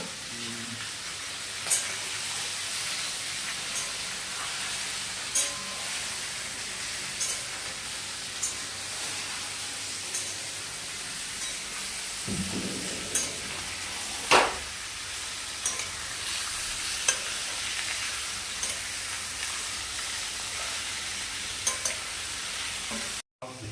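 Chicken pieces fry in a pan with a continuous low sizzle and hiss, punctuated by periodic sharp stirring clinks and scrapes of a spatula, heard alone without talk.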